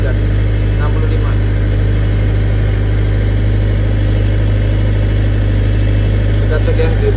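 A 40 kVA diesel generator set runs under load test, hot and drawing up to 59 amps, a loud, close, steady low engine drone with a deep constant hum and continuous mechanical rattle.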